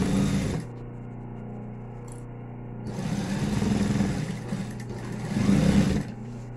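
A sewing machine stitches a thermal lunch bag in two separate bursts after a short opening run. The motor whirs steadily, close by, with quiet gaps between the bursts.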